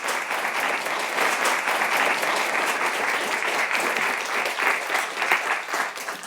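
An audience applauds to welcome a speaker at a Radcliffe Institute lecture, a dense, even wash of many hands clapping that holds steady for several seconds in a large room.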